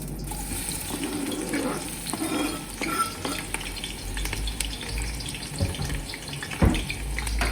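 Onion going into hot oil for native jollof rice, giving a continuous close sizzle with stirring clatter and a louder knock near the end, no speech.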